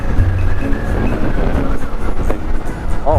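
A train rolls steadily past at a railroad crossing on a back road with a loud, close clickety-clack rumble, and a brief wheel squeal rises near the end.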